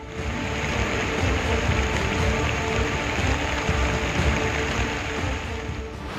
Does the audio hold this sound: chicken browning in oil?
no